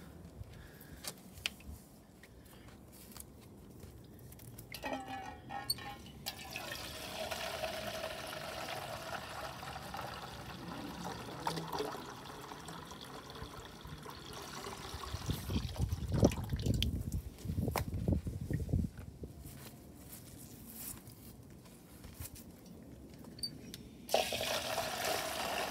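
Water runs into a bucket, a steady rushing and trickling that swells louder midway with deeper gurgling as the level rises, then continues alone to the end.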